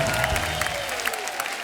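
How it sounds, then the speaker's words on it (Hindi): Applause from a studio audience on a television comedy show, a dense, fairly loud burst of clapping with faint cheering, thinning out toward the end. "एक बार अनीता डॉट हसनंदानी के लिए जोरदार ताली"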